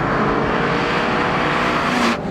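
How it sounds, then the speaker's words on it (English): Honda S2000 engine revving hard with VTEC, a loud steady high-pitched roar heard close that holds for a couple of seconds before cutting off abruptly. "as hard as you can rev the engine, it's just a constant surge."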